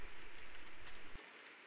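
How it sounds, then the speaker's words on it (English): A J36 model locomotive hauling an unfitted freight train runs past on a model railway, giving a continuous rumbling, clattering roll of wheels on track that cuts off abruptly partway through. "here's the J36 on an unfitted freight running past the camera"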